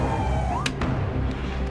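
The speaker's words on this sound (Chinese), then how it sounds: "全体开启警笛，全体开启警笛。" A fire engine siren wails in a fire-rescue drama convoy scene, a steady tone gliding upward under broadband traffic rumble with a couple of sharp clicks.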